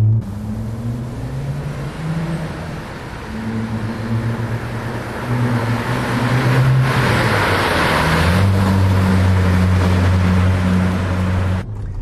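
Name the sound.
Audi S4 B5 twin-turbo 2.7-litre V6 engine running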